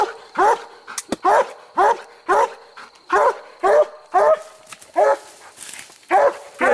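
A coonhound barks at a treed raccoon on a night hunt, giving loud, close, rhythmic bays about every half second to second, with a few yips mixed in and no talking.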